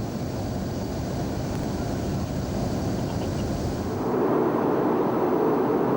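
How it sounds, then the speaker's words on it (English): Canberra jets and a Nimrod fly together in a formation flypast, heard as a steady broadband roar of aircraft engines that swells louder near the end with no voices. "The Canberras joined up with Nimrod, followed by aircraft of the Royal Flight."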